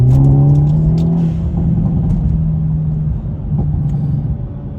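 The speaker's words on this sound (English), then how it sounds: "when you get on the gas, it does feel like the RPMs are going up a little bit faster" A Hyundai Elantra N engine revs under throttle, a loud, close droning rumble whose pitch climbs and then holds steady, with no talking.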